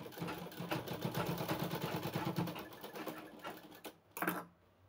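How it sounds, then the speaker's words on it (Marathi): A sewing machine runs a reinforcing line of stitching on a fabric latkan tassel, giving a close, continuous buzzing whir for about four seconds before slowing, with a brief final burst and clicks at the end. "आपण याच्यावर अजून एक शिलाई मारून घेऊया, जेणेकरून शिलाई आपली खोलणार नाही"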